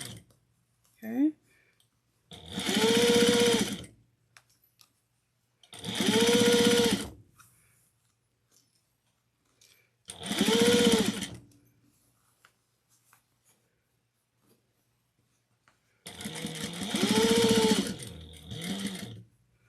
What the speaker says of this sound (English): Just don't sew over your pins.